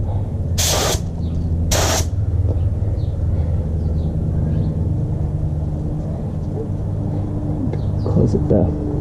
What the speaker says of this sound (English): go ahead and spray my test area,